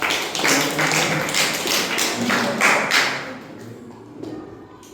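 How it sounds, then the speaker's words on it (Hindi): Schoolchildren in a classroom clapping together at a state-day celebration, a dense burst of close hand claps that rises, holds for a few seconds, then tapers off with scattered final claps. "तो एक बार जोरदार क्लैपिंग क्लास।"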